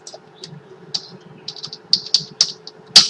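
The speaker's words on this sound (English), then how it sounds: "Let me type it for you." Keystrokes on a computer keyboard tap out in an irregular series of crisp clicks, sparse at first and then quicker, ending on one sharper strike, with no voice over them.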